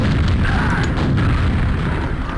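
Video game guided missile rockets fire and explode in a dense run of heavy booms and blasts, loud and close, blending into a continuous rumble with no talk.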